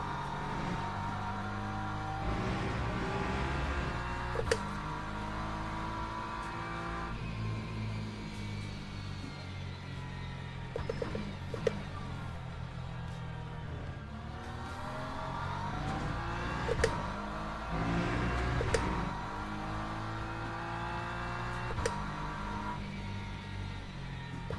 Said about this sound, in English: I'm mostly just stopping myself from over-revving the engine